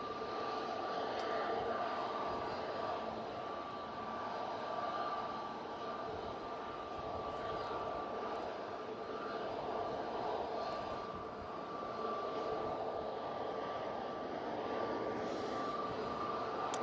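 An Airbus A330-300 comes in to land at Manchester Airport during a storm, a steady jet rumble beneath heavy wind noise with a faint tonal whine, moderately distant and fairly quiet, with occasional talk.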